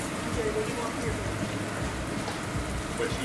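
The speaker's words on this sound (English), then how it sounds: "Saute your meatballs for about 2 minutes on each side, or about 8 minutes in total." Italian meatballs sauté in hot oil in a pan, giving off a constant, dense, close-up sizzle with no pauses.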